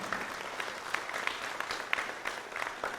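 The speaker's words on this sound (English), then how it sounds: "one more round of applause for Ms. Amanata Drame." Applause from an audience, steady clapping throughout with a few sharper claps standing out, moderately distant and fairly quiet.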